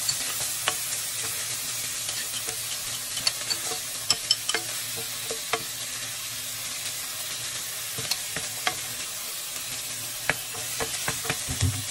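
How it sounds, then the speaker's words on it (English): Mixed vegetables sauteing in a pan, a steady broadband sizzle with scattered sharp clicks and scrapes of stirring, moderately close and continuous with no talking. "We're actually going to put our mixed vegetables in first. And saute vegetables."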